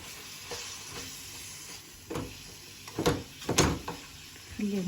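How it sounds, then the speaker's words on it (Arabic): Chicken briouat filling stirred in a pan with a spoon, a faint background sizzle broken by several louder scraping strokes toward the end, close and without speech. "وانا غادي نحرك هادشي مزيان."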